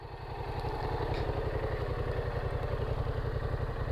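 A Yamaha XSR700 motorcycle engine idles steadily and close by, its rhythmic low thrumming pulse rising slightly at the start and then holding an even, loud beat, with no talking.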